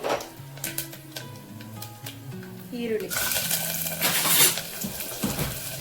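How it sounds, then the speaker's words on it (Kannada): Onions sauté in oil in a pan for brinjal masala, a soft sizzle that swells to a steady hiss as they go in, with light clinks of utensils and a voice talking early on. "ಈರುಳ್ಳಿನ ಬಾಡಿಸ್ಕೊಳ್ಳೋಣ ಎಣ್ಣೆಲೆ"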